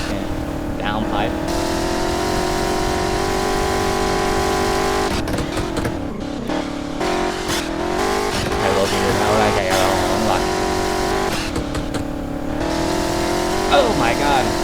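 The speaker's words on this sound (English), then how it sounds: "You know you like the sound of that fucking downpipe." Mercedes-AMG in a video game with a downpipe exhaust, its engine droning and revving in long sweeps with shifting pitch, loud and steady throughout while someone talks over it.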